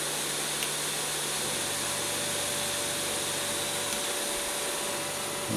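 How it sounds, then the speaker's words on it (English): A Hypercube Evolution 3D printer homing its axes produces a steady motor whine with stepped pitch changes as each axis moves in turn, fairly loud and close, with no one talking over it. "let me just home the printer"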